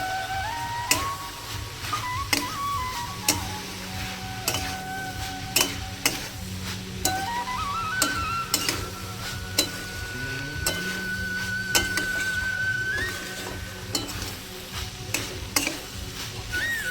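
Fried small shrimp being stirred into pui shak (Malabar spinach) in a frying pan, with steady sizzling under repeated scraping and clinking strokes of a spatula, close and continuous throughout.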